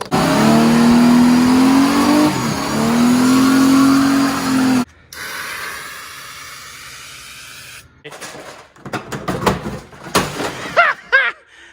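A 1965 Ford Mustang body on a 2011-or-newer Mustang chassis, its engine revving loudly through a new exhaust in rising pulls, then dropping away to quieter idle before sharp, rapid blips and pops near the end.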